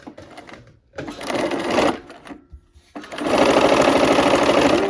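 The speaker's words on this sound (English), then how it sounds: "we're gonna go ahead and sew the first partial seam here" A sewing machine stitches a partial seam in quick bursts: a short run, a brief pause, then a longer, steady, loud whir that carries to the end.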